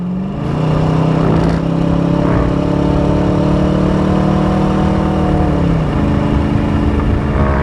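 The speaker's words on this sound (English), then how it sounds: "Give you a little bit more exhaust sound there." Loud, deep V8 exhaust roar of a 1993 Ford Mustang LX 5.0 with automatic transmission accelerating up through the revs, steady rising drone with a shift near the end, close to the car.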